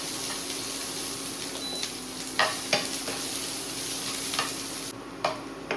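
Finely chopped onion sizzles softly in a pan as it is stirred, with scattered scraping clicks of the spoon over a steady frying hiss; no speech.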